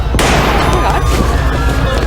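Gunfire erupts inside a restaurant as a sharp loud crack followed by dense, chaotic noise and ringing clatter, close and harsh, with voices mixed in.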